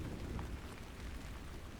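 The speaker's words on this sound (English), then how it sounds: "As the sound of the rain slows down and nature falls asleep" Steady rain falling in a dense, even wash with a low rumbling undertone, continuous and close, with no voices.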